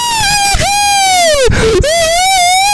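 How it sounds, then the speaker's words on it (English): A girl's short, high-pitched shriek from the Higurashi visual novel game, a rising sustained vocal cry that breaks off midway and resumes, loud and close. "At that moment, Rena let out a small shriek."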